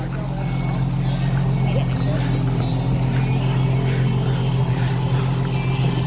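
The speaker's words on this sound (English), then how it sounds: "I like that exhaust on here." A Nissan 350Z at a car show idles with a steady, deep exhaust rumble that holds evenly and fairly close throughout, with faint crowd noise in the background.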